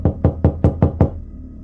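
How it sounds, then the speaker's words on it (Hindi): Six firm, evenly spaced knocks on a bedroom door late at night, loud and close, in a quick steady rhythm before falling quiet. "तभी उनके दरवाजे पर किसी ने दस्तक दी।"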